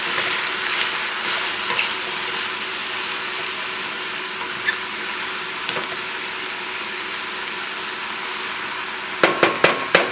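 Mushrooms and shallots frying in a pan for cream of mushroom soup, a loud continuous sizzle and crackle that runs throughout, ending in a quick series of sharp knocks.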